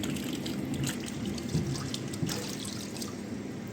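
Water splashes and trickles steadily as vegetables are washed and drained in a strainer, a continuous close pouring with small irregular drips and splashes and no talking.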